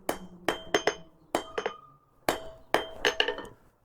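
A blacksmith hammers a railroad spike, upsetting the material for a forge weld: sharp ringing metallic strikes in clusters of two to four, loud and close, each ringing briefly before the next group, with no talking.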